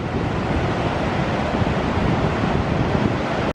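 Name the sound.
sea waves and wind at Paignton beach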